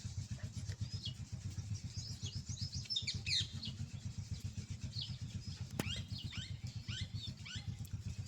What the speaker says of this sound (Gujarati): જોઈ લ્યો બે પોપટ કેવા મસ્ત બેઠા